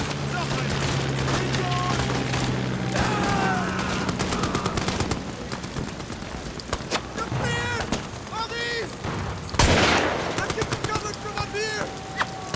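Bursts of gunfire and scattered shots from the wartime horror game Amnesia: The Bunker ring out over a busy game soundscape, with a large blast near the ten-second mark and a voice talking partway through.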